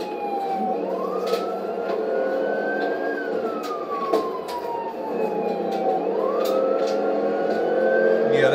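A police car with a 5.7 engine chases a stolen BMW, its siren wailing in long rising and falling sweeps over steady, fairly loud engine and road noise, with no talk.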